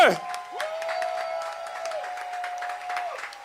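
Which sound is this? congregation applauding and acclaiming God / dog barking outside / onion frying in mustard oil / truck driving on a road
congregation applauding and acclaiming God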